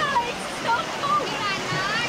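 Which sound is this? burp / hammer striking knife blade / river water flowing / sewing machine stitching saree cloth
river water flowing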